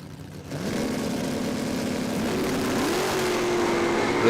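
Drag racing cars, a Commodore among them, launching down the strip at Willowbank Raceway, a loud engine roar that rises quickly and climbs steadily in pitch as they accelerate, with no talk.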